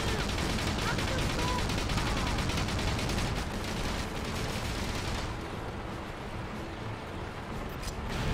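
A heavy tank's twin machine guns fire in the Battalion Wars video game, a dense, sustained barrage of rapid shots and blasts that keeps going at full loudness for several seconds.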